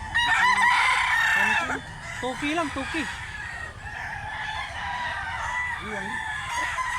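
A rooster crows loudly nearby at a poultry market in Mantalungon, Cebu, with more crowing and clucking from other fowl following, while a person speaks briefly in between.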